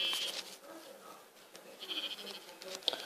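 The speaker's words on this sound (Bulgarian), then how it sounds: "Овцичка. Ела така да те убия." Sheep in the Minecraft video game bleat several times in short, nasal calls. The calls are moderately loud and spread over a few seconds among soft in-game background noise.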